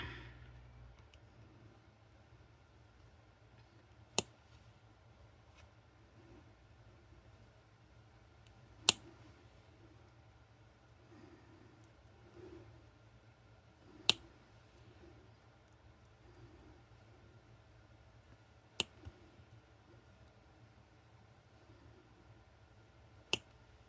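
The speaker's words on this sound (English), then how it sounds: "now let's snip." Jewelry wire being snipped with cutters while making filigree medallions for a chain, heard as a few sharp isolated clicks spaced several seconds apart over a quiet room hum.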